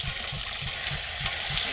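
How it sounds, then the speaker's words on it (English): An antique Myers piston pump, rebuilt with new leathers and driven by a steam engine, forces out water in a rushing gush with a steady pulsing stroke about three times per second, close and continuous. "as you can see, she's pumping water pretty good here"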